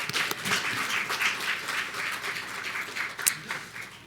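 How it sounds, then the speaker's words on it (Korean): A church congregation applauds during a Sunday service, a dense, moderately loud patter of many hands clapping steadily for several seconds. "우리 박수로 우리 환영하고 축복하겠습니다."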